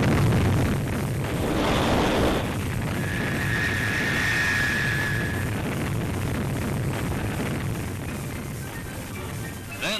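A Thor Delta rocket lifts off on the Project Echo launch, a broad, roaring rumble that swells early and then holds as a sustained, distant-sounding blast, with a thin steady tone passing over it midway.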